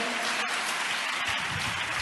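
Sustained clapping from a church congregation at Hosanna Mandir in Machilipatnam, a loud, even roar of many hands with a few sharper claps standing out.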